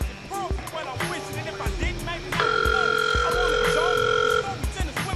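A steady electronic phone ringing tone sounds for a couple of seconds over background chatter and street noise, then cuts off.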